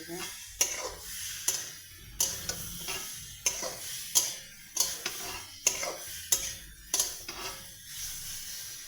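Spice paste fries in a pan and is stirred in a steady rhythm, each sharp metal scrape landing over a soft sizzle, about a dozen strokes close up.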